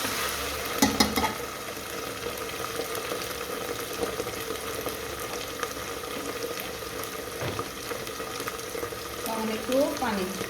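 Ginger-garlic paste sizzles and fries in a pressure cooker with onions while being stirred, a steady close hiss with scraping clinks throughout, and a voice speaks briefly over it.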